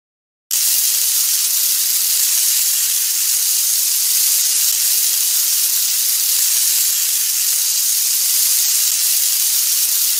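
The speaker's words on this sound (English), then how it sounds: "We need to melt some butter in the pan so the pancakes won't stick." Butter sizzling in a hot pan in a Curious George pancake-cooking video game, a steady even hiss that holds unbroken and fairly loud from just after the start to the end.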